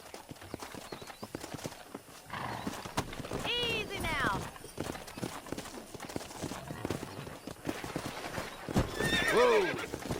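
Horses in the Red Dead Redemption western game clop along at a quick gait while two loud neighs and whinnies ring out near the middle and end, with a voice speaking over the hoofbeats.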